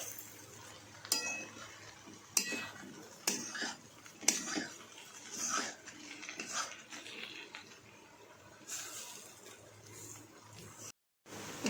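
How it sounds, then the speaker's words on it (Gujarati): A spoon stirring a spiced roti mixture in a pan, producing repeated metallic clinks and scraping sounds in an uneven rhythm over a soft sizzle, close by. "હવે તેને આ રીતે હલાવી કાઢીશું આપણે, બધું મિક્સ કરી દઈશું।"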